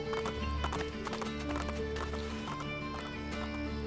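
Horse hooves clip-clop at a gallop with a brief neigh in Assassin's Creed Brotherhood, a steady rhythmic clatter over a constant game soundtrack and ambience.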